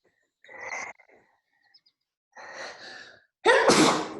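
Soft breathy sounds, then one loud, sharp sneeze bursts out close by near the end.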